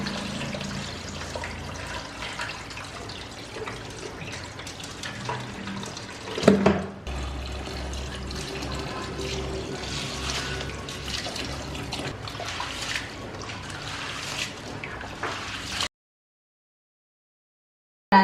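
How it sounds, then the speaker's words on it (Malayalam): Wheat grains being washed by hand in water, a continuous close splashing and swishing of grain and water that surges briefly midway and then cuts off to silence near the end, with no voices. "എത്രയും നല്ലതുപോലെ കഴുകാമോ അത്രയും നല്ലതുപോലെ കഴുകിയെടുക്കാം"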